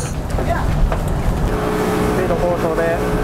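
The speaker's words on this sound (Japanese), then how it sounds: "スピードボートでサメット島に向かいます。" Speedboat ride across the water to Samet Island in Thailand: a loud, steady engine roar with rushing water noise throughout, with voices talking over it.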